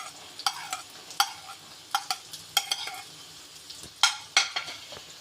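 Ginger, green chillies and curry leaves stirred in a pan for kakka (clam) roast, with repeated scraping clicks of a spoon against the pan over a faint sizzle.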